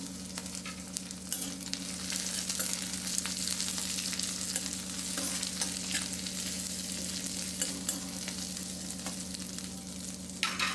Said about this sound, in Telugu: ఆనియన్ పచ్చిమిర్చి చక్కగా వేగినాయి. కాస్త కరివేపాకు వేసుకుందాం.